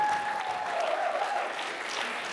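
A convention crowd applauds a voice actor panel, with steady, moderately distant clapping and a faint tonal whistle or hum running through it.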